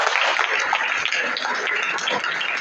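Audience applause at a school quiz competition in a college hall, a short burst of many hands clapping together, dense and fairly close, lasting a couple of seconds before fading slightly.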